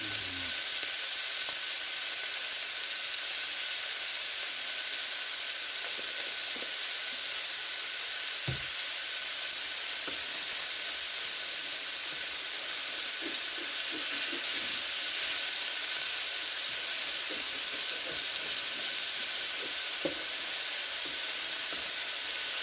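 Meat for street tacos sizzles steadily in a frying pan over medium-low heat, a constant close hiss with occasional small pops and stirring clicks.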